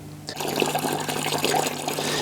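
Water siphoned out of an aquarium tank through a tube, a sudden onset of steady gurgling, rushing flow that continues close and fairly loud to the end.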